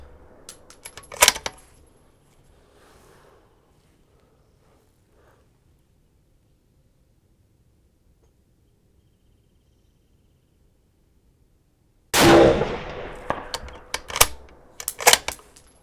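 Rifle shots fired at an outdoor range from a tripod-supported rifle: a sharp near crack early on, then a long quiet stretch, and a loud burst with several more sharp report-like spikes near the end.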